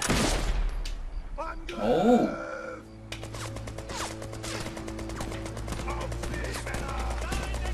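Gunfire in a World War II sniper shooter, Brothers in Arms 3: scattered shots and bursts crackle through the clip over a low in-game drone, while a man gasps and exclaims.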